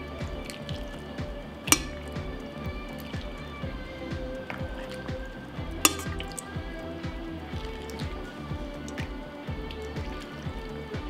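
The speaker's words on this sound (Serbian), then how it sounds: "sada ćemo sipati u tegle do vrha" Hot brine being poured into jars, a wet gurgling flow with rhythmic glugs and a couple of sharp glass clinks, close and moderately quiet.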